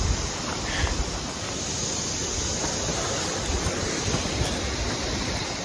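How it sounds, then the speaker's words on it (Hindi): Flowing water in a mountain forest on the trek to Kalpeshwar and Rudranath, heard as a steady, dense broadband rush that stays even throughout with no voices. "पानी की आवाज थोड़ी थोड़ी आपको कम हो जाएगी।"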